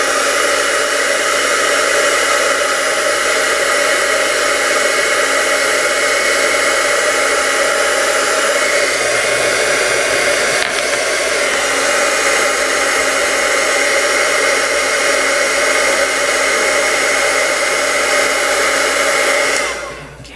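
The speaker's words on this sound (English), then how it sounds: "Let's come on back and grab our heat tool again. And it's going to get loud for a sec." A papercraft heat tool blows a steady, loud, whooshing hiss for about twenty seconds without a break, then cuts off at the very end.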